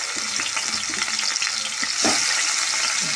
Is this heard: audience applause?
no